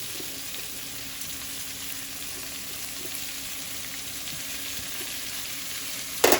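Onion and vegetables frying together in a single pot, a constant moderate sizzle running alone with a brief clatter at the very end.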